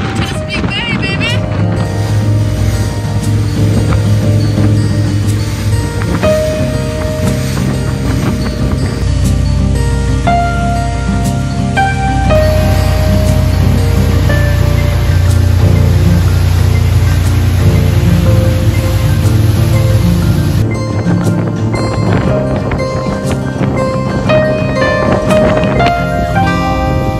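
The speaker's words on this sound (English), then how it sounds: "Taking water over the bow." Boat pushing through rough, windy seas on Chesapeake Bay, a constant loud roar of wind and water with splashes over the bow, and talk mixed in throughout.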